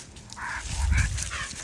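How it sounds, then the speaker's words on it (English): Dog barking while pulling on its leash outdoors, a few short yips and barks in quick succession, close and fairly loud. "my dog is going crazy pulling on the leash."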